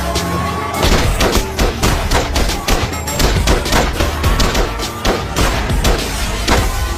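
Prison guards on a wall fire repeatedly at rioting inmates in a movie scene, dense overlapping gunshots and heavy thuds booming in rapid, irregular bursts, loud and continuous throughout.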